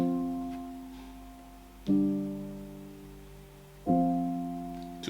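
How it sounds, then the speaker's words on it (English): A piano plays a two-chord progression in three sustained struck chords about two seconds apart, each ringing out and slowly fading, alone with no talk. "I started with a piano, only 2 chords"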